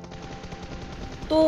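Automatic gunfire in the PUBG video game rattles off as a rapid burst of shots as a teammate takes down an enemy, followed by a short game sound cue at the end.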